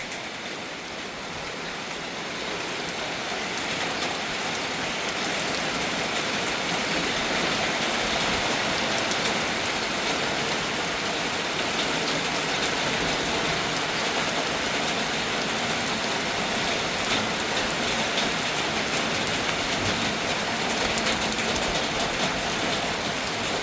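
Heavy rain pours down in a dense, steady hiss in Sakon Nakhon, Thailand, while the sun is out, drumming continuously on surfaces with no voices.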